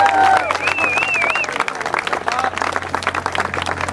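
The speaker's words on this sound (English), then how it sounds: "a round of applause to those guys who do a fantastic job" Audience applause at a race awards presentation, a dense burst of clapping that starts loud and gradually thins, with whistles and scattered crowd voices mixed in.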